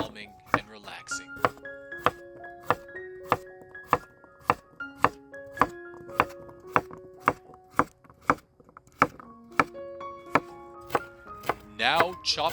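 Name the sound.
chopping vegetables with a knife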